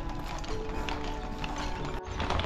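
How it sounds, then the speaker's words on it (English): Hooves of a horse-drawn carriage clip-clop steadily on a road near Neuschwanstein Castle, faint beneath broad outdoor noise and creaking mechanical rattles. "you can have the horse drawn carriage as well"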